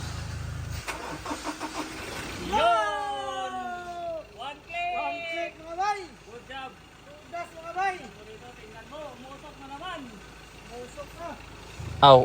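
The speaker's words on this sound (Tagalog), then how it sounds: "tumunog talaga yung engine ng sasakyan" A car with suspected ECU/PCM damage cranks and its engine turns over with rising, whining tones, then runs with uneven revving bursts. People talk over it throughout.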